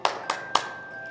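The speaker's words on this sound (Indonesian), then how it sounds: "Tepuk semangat." Three sharp hand claps from a children's Sunday school group cheer, evenly spaced a quarter second apart, close and crisp with a faint steady tone behind them.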